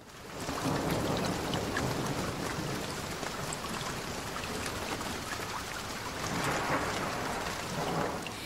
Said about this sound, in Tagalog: biglang pagdilim ng paligid at pagbuhos ng malakas na ulan